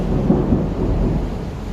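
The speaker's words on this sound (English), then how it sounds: "Praise God. thunderstorm." Thunder from a thunderstorm rolls in a loud, low, continuous rumble with a couple of swelling peaks, heard on its own without talk.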